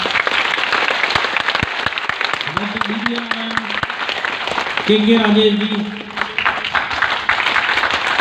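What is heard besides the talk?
audience applause, clapping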